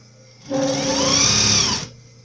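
A sewing machine stitches the folded fabric edge of a suitcase organizer handle in one continuous whirring run of about a second and a half, close and clear, with quiet before and after.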